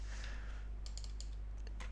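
A few quick keystrokes typing a short command on a computer keyboard, light clicks in a small cluster over a steady low electrical hum.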